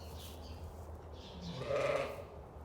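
A ewe in labor bleats once, fairly close and moderately loud, over quiet barn ambience at lambing time.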